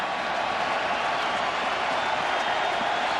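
A college football stadium crowd at a Michigan versus Minnesota game makes a steady, broad roar of noise from the end zone on third down.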